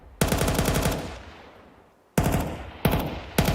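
Rapid automatic MP9 submachine-gun fire in Counter-Strike, a long loud burst followed by a quieter tail, then two more short bursts, alone with no voices.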